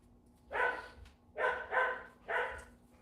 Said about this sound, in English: I knew he just wanted to go outside and bark.